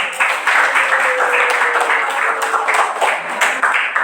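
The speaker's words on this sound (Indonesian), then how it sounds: "kita beri aplaus untuk kelompok 1 dulu" A classroom of schoolchildren applauding for a presenting group, steady dense clapping filling the room for several seconds at close range, with no voices standing out.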